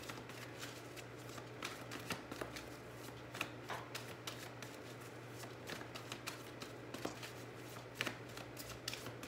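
Tarot cards being shuffled by hand, a steady soft riffling and flicking that goes on for several seconds, close and fairly quiet over a low steady hum.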